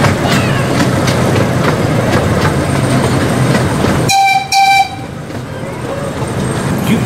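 An amusement park-style train ride at Columbus Zoo rumbles and clatters along loudly, then the rumble cuts out and two short, bright horn toots sound, followed by quieter rolling noise.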